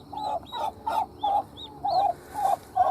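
Repeated high, short peeping calls from baby turkeys, about three per second, close and clear with no talking.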